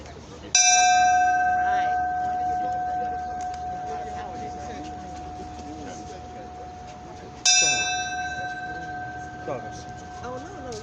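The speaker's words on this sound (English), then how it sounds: "So just come on around, strike the bell, keep going." At a Juneteenth celebration at the Underground Railroad site on Broadway in Paterson, New Jersey, a bell is struck twice, several seconds apart, each loud ring decaying slowly while people talk in the background.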